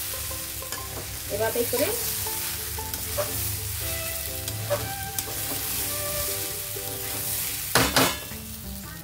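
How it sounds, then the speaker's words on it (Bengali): Fried rice being stirred in a pan with pre-fried vegetables mixed in, a steady close sizzle under scraping spatula strokes and occasional clinks, with a brief spoken remark. "যে ভেজিটেবলগুলো আমি ভেজে রেখেছিলাম অ্যাড করে দিয়ে ভালোভাবে চালের সঙ্গে মিশিয়ে নেব"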